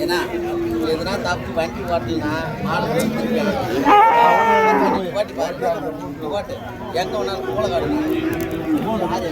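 Bulls at a busy cattle market in Uthangarai, brought in from Moolakadu, low and moo again and again amid a crowd's chatter, with one louder bellow in the middle and people talking throughout.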